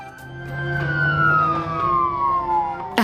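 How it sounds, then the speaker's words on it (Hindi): Siren of an arriving ambulance, a sustained wailing tone sliding slowly downward in pitch, moderately loud and close, ending with a brief sharp noise. "एम्बुलेंस आ गई थी"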